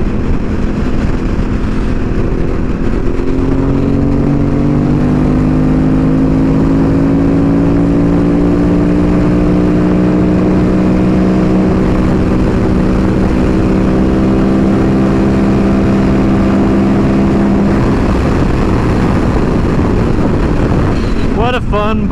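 A Ducati Monster S2R 800 naked motorcycle cruises on a freeway, its engine note droning and rising gradually under heavy, constant wind buffeting.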